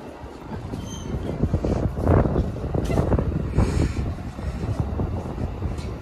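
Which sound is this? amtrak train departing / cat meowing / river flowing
amtrak train departing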